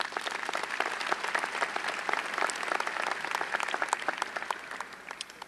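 Audience at an Urbana High School commencement ceremony claps for the principal, a dense, steady round of applause filling the hall at moderate volume and thinning slightly toward the end.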